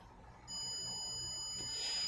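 Steady electronic beep rings out from a ghost-hunting device, a sustained high tone that starts abruptly and holds over quiet room hiss.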